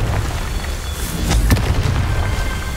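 Confringo blasting spell going off in the video game Hogwarts Legacy, a loud booming explosion with a sharp burst near the middle over a steady rumbling game soundscape.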